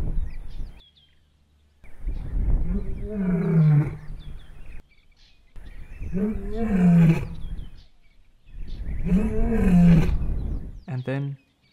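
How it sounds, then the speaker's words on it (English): A lioness calls into the night for her family, giving three long, deep, moaning roars separated by silent pauses, close and loud, each swelling and then fading into grunts. "she continues to call for her family"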